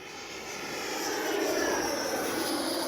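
An E-flite Viper 90mm RC jet flies in toward the pilot, its ducted-fan whine steadily growing louder and fuller over three seconds and holding a strong, sustained roar as it passes close.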